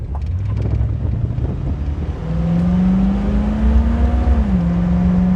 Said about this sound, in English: Really responsive transmission. And it's laying into it, shifts into third at like 72.